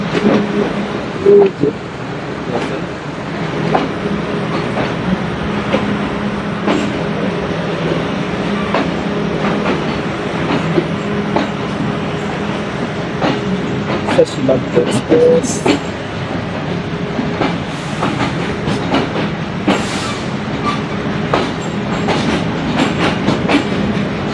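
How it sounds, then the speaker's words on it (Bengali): The Jahanabad Express rolls along with a continuous loud rumble and rattle of carriages, sharp clicks and clacks of wheels over rail joints scattered throughout. "আমাদের ট্রেন 2 মিনিট লেটে ছেড়ে দিয়েছে, আর এখন একদম হচ্ছে আমরা বেরোয় যাচ্ছি"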